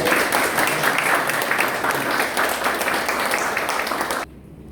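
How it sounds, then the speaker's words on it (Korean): A church congregation applauds a visiting pastor at a staff worship service, steady dense clapping that cuts off abruptly near the end into quiet room tone. "박수를 좀 보내주세요."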